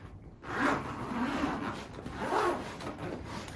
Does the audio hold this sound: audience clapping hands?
no